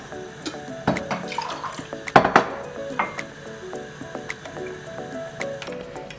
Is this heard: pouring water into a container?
yes